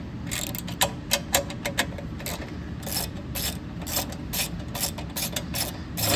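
A ratchet clicks steadily in short repeated runs while backing out the 8mm screws holding the rewind starter on a Briggs 130G32 engine, close and moderately loud over a faint background hum.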